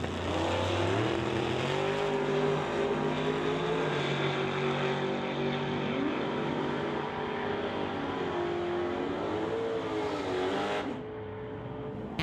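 A 1968 Dodge Dart roars through a drag race run at an NHRA Summit ET event, a loud, sustained engine drone with shifting pitch that holds steady and then cuts off abruptly near the end. No one speaks.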